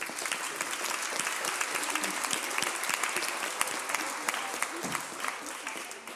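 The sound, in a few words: audience applause at debate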